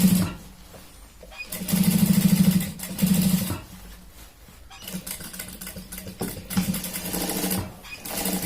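An electric sewing machine stitching the seat seam of a pair of pants, running in short uneven bursts with a steady mechanical hum and rapid needle chatter, starting and stopping at close range.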